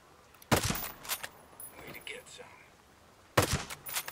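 Rifle gunshots from the Ghost Recon: Breakpoint video game, two sharp loud bursts about three seconds apart, each followed by a quick echoing tail, with quieter game sounds in the gap between.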